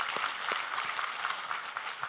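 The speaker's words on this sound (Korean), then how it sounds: "우리 하나님께 감사와 영광의 박수를 드리겠습니다" A church congregation applauds together during a worship service, a steady wash of many hands clapping at moderate distance, with no speech over it.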